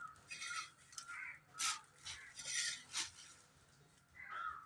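Raw eggs being beaten in a bowl for a milk egg bread roast, with quick rhythmic clinking whisks of a utensil against the bowl in bursts, close and fairly soft, with birds faintly cawing outside.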